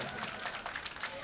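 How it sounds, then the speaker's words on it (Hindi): Faint, light clapping from a small audience at a Hindi comic poetry mushaira, a brief patter of scattered hands with a soft crowd murmur underneath. "इतना ही बहुत है, 67 लोगों ने बजाई है ताली।"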